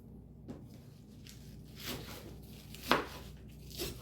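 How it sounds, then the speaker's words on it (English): Knife cutting fresh spinach and trimming stems on a board for a Cobb salad, a few soft scattered chops with one sharper cut standing out against quiet kitchen background. "And then I like to cut my spinach a little bit."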